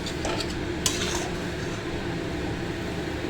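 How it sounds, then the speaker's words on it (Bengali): A lid being put on a cooking pot of bottle gourd curry with prawns, a few light metallic clinks and one sharp clatter over a steady background hiss of cooking. "এবার আমি ঢাকা দেব।"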